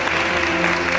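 A pageant audience applauds the Miss Oise 2020 candidates, steady dense clapping filling the room for a moment without a break.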